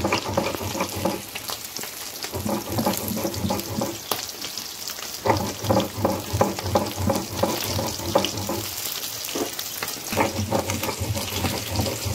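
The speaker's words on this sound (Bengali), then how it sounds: "ভাজা রেডি, মাছ ভাজা হয়ে গেছে" Pieces of katla fish frying in hot oil: a continuous close sizzle and crackle, with intermittent stirring and clattering bursts throughout and no speech.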